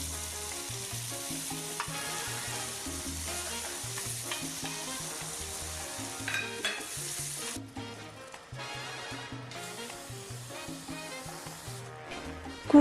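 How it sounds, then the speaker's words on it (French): A wooden spoon stirs lentils and fenugreek for Moroccan rfissa in a pot, giving continuous scraping and sizzling with rhythmic knocks against the pot, steady and close throughout. "mélangez le tout avec une cuillère en bois"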